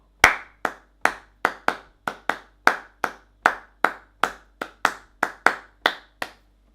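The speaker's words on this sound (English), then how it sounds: "So if I were to clap that" Two hands clap a rhythm for a guitar lesson on a song, about seventeen sharp, close claps in a steady, slightly uneven pattern with short gaps, alone with no talk.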